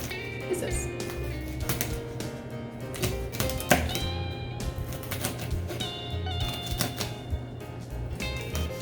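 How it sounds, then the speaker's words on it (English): A knife chopping rolled collard greens into small pieces, a quick series of close, crisp taps and cuts on a board with soft background noise. "you roll it and then you cut it in small pieces"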